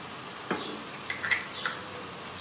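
A spoon scrapes and clinks against a pan while onion, pepper and spices fry with a soft, steady sizzle, the utensil strikes landing in a handful of light, irregular taps.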